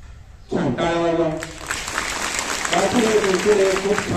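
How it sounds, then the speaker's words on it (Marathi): An audience at a motivational talk on values for children and youth applauds, steady clapping starting abruptly and continuing loudly, with a voice speaking over the clapping. "छान टाळ्या वाजवा."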